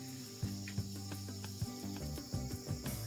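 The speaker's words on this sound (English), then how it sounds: "In the mountains, summer is full of cicadas." Cicadas drone without a break in a mountain forest on a hot summer day in Vietnam, a faint, steady high buzz with several low knocking thuds scattered beneath it.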